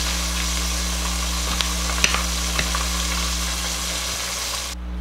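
Cajun-battered red snapper fries in shallow oil while being pressed down. A dense, even sizzle holds throughout over a low steady hum, broken by a few faint clicks, and no one speaks.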